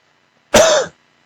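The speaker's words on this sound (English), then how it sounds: "coughing right in the mic on you." One short, sharp cough close to the mic, surrounded by near silence.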